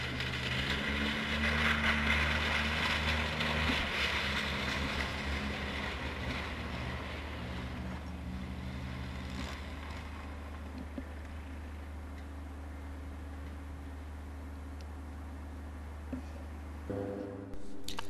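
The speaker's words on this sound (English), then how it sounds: "This is one of our Twin Otter aircraft coming to land." Twin Otter aircraft on skis approaching to land at an Antarctic research base, a steady low propeller and engine drone holding throughout at moderate distance, with a sharper shift in tone near the end.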